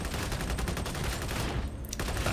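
Rapid, loud bursts of automatic autogun fire in Warhammer 40K Darktide, a dense continuous stream of shots that breaks off briefly and then resumes.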